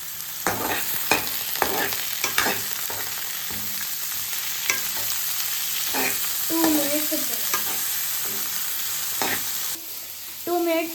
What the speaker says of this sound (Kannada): ಇವಾಗ ಮಶ್ರೂಮ್ ಆ್ಯಡ್ ಮಾಡಬೇಕು, ಆಮೇಲೆ ಸೌಟೆ ಪಾಲಕ್ ಆ್ಯಡ್ ಮಾಡಬೇಕು